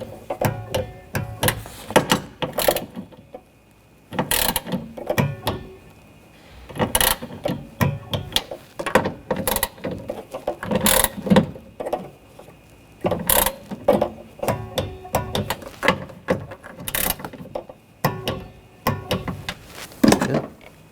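A torque wrench tightens nuts and bolts on a rear window regulator assembly of a 2014-2020 Nissan Rogue, giving repeated close, crisp ratcheting clicks in short bursts with brief pauses between them.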